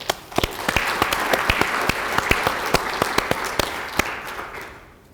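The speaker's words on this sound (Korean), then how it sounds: "감사의 박수를 보내주시기 바랍니다." Audience at a Gangnam district council regular meeting applauds in thanks, a steady dense burst of many hands clapping for about five seconds, fairly close and without talk, tapering at the end.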